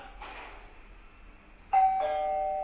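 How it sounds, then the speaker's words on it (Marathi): A smart video doorbell chime rings indoors when the outside button is pressed, a clear two-tone electronic ding-dong sounding once, loud and sustained after a quiet room. "आता माझा भाऊ बाहेरून बेल दाबणार आहे."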